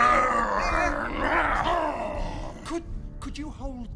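Creature growl in a 1998 family horror comedy, a drawn-out rough growl and groan for about two and a half seconds, followed by short grunting bursts, loud and close.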